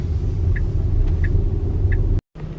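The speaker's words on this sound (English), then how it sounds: "One of Johnny's classmates is driving his mom's SUV onto campus in the morning, and then I'm sure they switch positions" An SUV passes on a narrow lane, a loud steady low engine and tyre rumble heard close from inside a car, with faint high chimes repeating and a brief dropout near the end.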